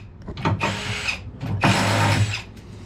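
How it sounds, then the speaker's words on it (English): Power drill fitted with attachments, used while repurposing an old piano into a bench, whirring in two close, loud bursts of about a second each with a short pause between them. "we're trying to see if some attachments to the drill will work"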